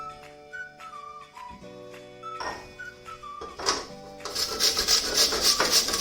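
Peeled raw potatoes are grated on a hand grater. Rhythmic rasping scrapes come close and clear in the final seconds, after a stretch of light whistling tones.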